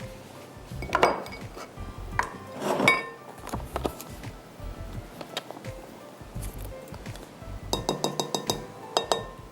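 A mixing bowl clinks and clatters as gram flour is added for a dessert recipe, with a series of sharp, close ceramic and glass knocks scattered through the clip and a busier run of taps near the end.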